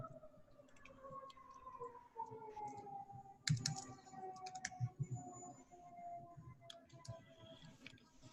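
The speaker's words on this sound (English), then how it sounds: "I'm just going to type this out for a sec." Computer keyboard typing during a JavaScript coding session, a few sparse, close clicks and taps over a steady high electronic whine, with no talking.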